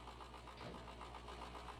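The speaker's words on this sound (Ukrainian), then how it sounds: "Сідаємо до салону, підчіплюємо, запускаємо двигун" A tractor in Farming Simulator 25 runs its engine in a steady, even idle with a faint rhythmic pulse, quiet and continuous with no voices over it.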